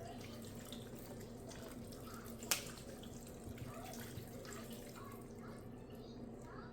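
Water running steadily into water bottles, a continuous soft stream from a tap with a brief clink near the middle, no talking.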